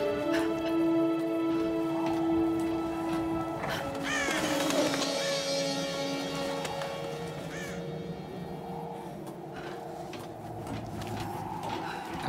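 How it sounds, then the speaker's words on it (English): Crows caw repeatedly in the video game Tomb Raider, a series of harsh, fairly distant calls standing out over a soft ambient backdrop, with no talking. "Okay, murder of crows."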